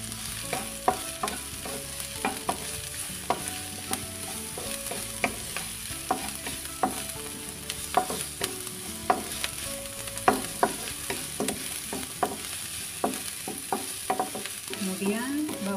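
Garlic and onion sauté in a hot pan with a steady sizzle, broken by frequent scraping clicks of a spatula stirring throughout, close and alone with no voices.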